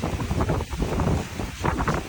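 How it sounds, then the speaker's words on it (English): Strong wind at a beach buffets the microphone in a steady, loud roar with gusty surges and no voices. "and it is very windy"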